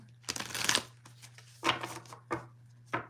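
Playing cards are shuffled in several close riffling bursts: one long shuffle, then three shorter ones, over a low steady hum.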